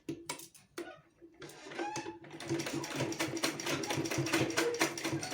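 A sewing machine stitches a petticoat belt, starting with a few quiet separate clicks and short bursts, then settling into a steady rapid mechanical chatter that runs on, close and fairly soft.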